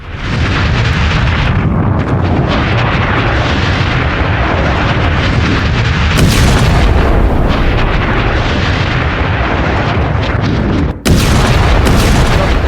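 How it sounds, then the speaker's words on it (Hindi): A Hezbollah double rocket launcher firing toward Israel: a loud, continuous roaring rush that lasts throughout, with a brief break near the end before the blast noise surges again. "डबल लॉन्चर से इजराइल पर दाग दिया है।"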